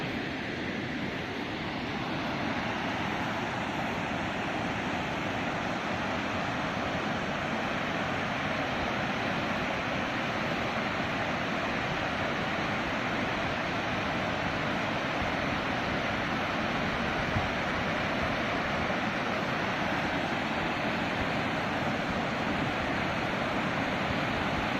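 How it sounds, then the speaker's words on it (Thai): Steady roar of the Hueang River's Kaeng Ton rapids in Loei, Thailand, swollen after heavy rain, rushing whitewater pouring over rocks, a dense, continuous wash of noise close by with no voices. "ตัวนี้ก็เป็นแก่ง นะครับ น้ำทั้งหมดก็จะไหลมาชนหินก็จะเกิด"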